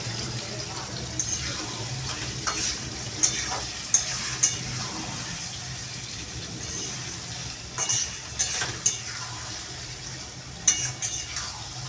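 Bombay duck fish frying in a pan with cumin, coriander, chili, turmeric, salt, garam masala and ginger-garlic paste, a steady sizzle with occasional stirring and utensil clinks while a voice talks.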